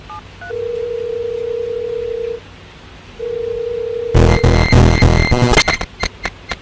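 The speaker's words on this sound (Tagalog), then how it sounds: "Brianna, subukan mong tawagan ulit" A phone call attempt in a remote spot with no signal: a few keypad dial tones, then long steady tones broken by a pause, ending in a loud burst of harsh electronic noise and clicks.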